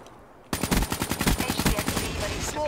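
Rapid automatic gunfire from Black Ops III on PC, a sustained burst of evenly spaced shots starting abruptly and running for about two seconds, loud and close, fading into a brief quieter tail.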